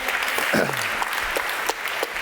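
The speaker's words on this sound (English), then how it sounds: "Big round of applause." Audience clapping at a startup launch festival, a short round of applause from the crowd with a few scattered louder claps and a low voice briefly audible underneath.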